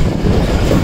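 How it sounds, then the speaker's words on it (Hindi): A train rolling over a diamond crossing on Pakistani rail lines near Rohri: loud, dense rumble of wheels and carriages up close, steady throughout a brief moment with no voices. "ये आ गई डायमंड क्रॉसिंग और उसी डायमंड क्रॉसिंग से गुजर कर आकर ये खड़ा है HGMU"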